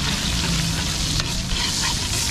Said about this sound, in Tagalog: gigisan natin, bawang,